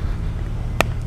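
A single crisp crack from the lower spine during manipulation for a pinched lumbar L4-L5 nerve, sharp and close over a low steady rumble.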